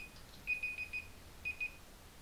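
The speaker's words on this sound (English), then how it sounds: "Jesus Christ, that alarm." An alarm beeps in quick electronic bursts, a run of four tones followed after a pause by two more, faint and steady with no talk.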